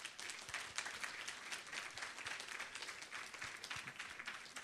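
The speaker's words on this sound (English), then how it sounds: "So please, a big round of applause for the team in Dearborn." Audience applause at the UMAA 12th Annual Convention, a steady wash of many hands clapping from a large crowd, moderately distant and sustained throughout without pause.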